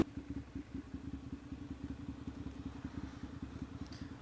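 A motorcycle engine chugs close by outdoors in a fast, even pulse of low thumps that holds steady throughout, with no talking.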